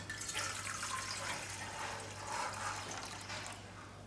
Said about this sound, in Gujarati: આ રીંગ છે ને એની અંદર હું પાણી નાખીશ